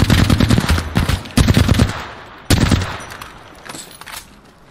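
Loud rapid automatic gunfire in the video game Apex Legends, three sustained bursts of shots, close and dominant with no talking.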